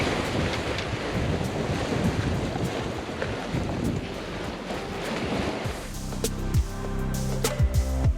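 Strong wind and choppy waves at the Cape Fear River inlet make a loud, continuous rush of noise aboard a boat, with buffeting on the microphone, then fade as clanking, knocking boat sounds take over.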